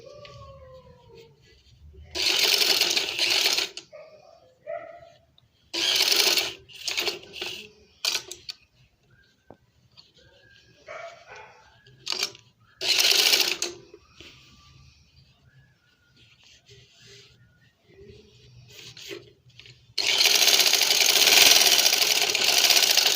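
A sewing machine stitches a seam down an angrakha garment in several separate loud runs of rapid mechanical whirring, with quiet gaps between runs and a longer final burst at the end.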